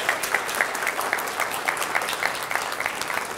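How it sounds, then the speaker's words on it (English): Opera audience applauding, a steady, fairly loud round of clapping with a rhythmic pulse of individual claps running through it. "I will ask you to applaud once again"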